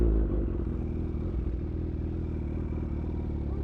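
Kawasaki H2 motorcycle ridden gently at low RPM, a steady mid-pitched engine drone with rattling clatter, constant and fairly close throughout, no voices.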